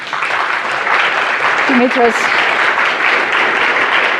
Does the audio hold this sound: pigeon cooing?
no